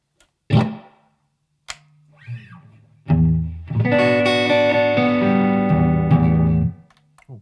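A few sparse plucks give way to a sustained guitar chord through a TC Electronic Hall of Fame 2 spring reverb pedal, with a washy, reverberant tail before cutting off.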